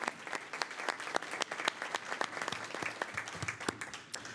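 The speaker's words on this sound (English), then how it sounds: "Please have a round of applause for Lynn Greer." Steady applause from an audience, dense and even clapping that holds at a constant level throughout.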